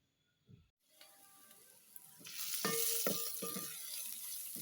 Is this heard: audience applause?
no